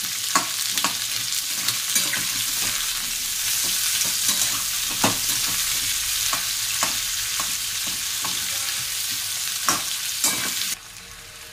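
Four large thick-cut onions frying in a pan, a loud, bright, steady sizzle with frequent spatula clacks and scrapes as they are stirred, ending abruptly near the close.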